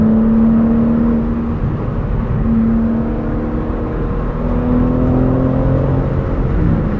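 A 2022 BMW M4 Competition xDrive Convertible pulls at full throttle through a dry corner, its engine a loud, steady, droning note that holds and rises slightly in pitch, with constant road and wind noise underneath.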